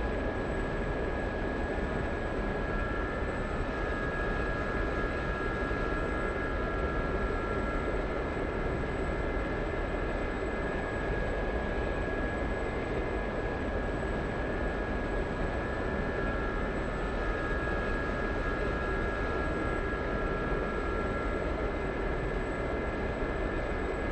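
A Harrier jet's engine in the DCS World flight game roars steadily and evenly for a long stretch, loud and unbroken, with no speech over it.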